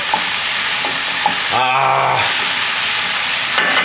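Ginger, garlic and eggplant tossed in a hot frying pan with sesame seeds give a steady close sizzle with scraping stirs, broken around the middle by a brief low rumbling hiss, all without talk.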